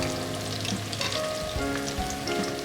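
Vegetables for tempura frying in hot oil in a pot, a constant close sizzle and bubbling with faint scraping of stirring, no voices.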